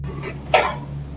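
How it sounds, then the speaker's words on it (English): A single short cough sounds once, nearby, over a low steady hum. "hears a cough from somewhere nearby"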